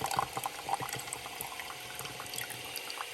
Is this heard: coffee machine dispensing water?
yes